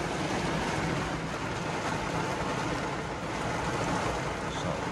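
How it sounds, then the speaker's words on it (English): Heavy pouring rain falls outdoors at a trailer loading site, a dense, steady broadband hiss that stays loud and even with wind-like roar and no talking. "And of course, now it started pouring rain."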